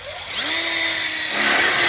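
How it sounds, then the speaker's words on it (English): A power drill drives a screw into a welded split bar counter kit for an outdoor kitchen: the motor whines up quickly and holds a loud, close, steady high whir for well over a second. "we'll just go ahead and put a screw in here and a screw in there."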